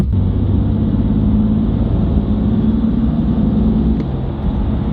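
A BMW M4 pulls away on a drive, a steady low engine rumble heard from inside the car, loud and continuous with a faint click near the end.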